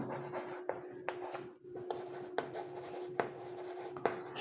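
Close, quiet scratching of writing on paper during a math lesson, short strokes and taps arriving in irregular bursts with brief pauses between them.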